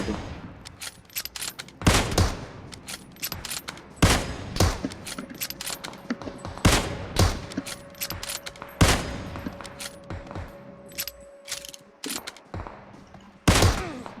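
Rapid bursts of gunfire from the PUBG Mobile battle royale game, sharp repeated shots and volleys scattered irregularly across the clip with a steady tone humming beneath, loud and close with no talking.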